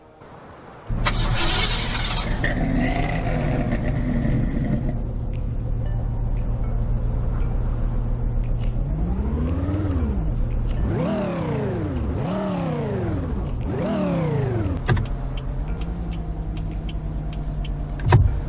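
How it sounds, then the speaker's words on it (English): A car engine in the Roblox game Greenville hums steadily, then revs up and down several times in quick succession before settling back to a low idle drone. "Here's what the car sounds like."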